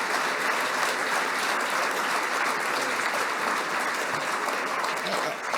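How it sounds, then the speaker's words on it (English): Sustained, dense applause fills a gala hall from an audience at a foundation celebration and honors gala, steady and fairly loud throughout without breaks. "So please give a round of applause"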